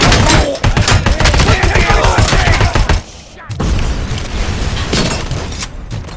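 Frag grenade thrown and exploding in the video game RoboCop: Rogue City, amid a dense, loud burst of rapid gunfire and blasts. A brief lull follows, then the heavy firing resumes.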